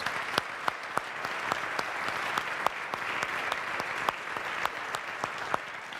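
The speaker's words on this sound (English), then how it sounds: "Let's recognize Virginia Tech Athletics and our outstanding student athletes with a round of applause" Applause for student athletes at a university state-of-the-address event: a large hall of steady clapping, fairly soft and distant, with a few sharper individual claps standing out near the microphone.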